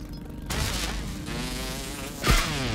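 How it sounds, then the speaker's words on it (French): Tiger mosquitoes buzz in the game Grounded, a close, whining drone that rises after a quiet start and hovers with wavering pitch, followed near the end by a short impact-like thud. "Ah, c'est des moustiques!"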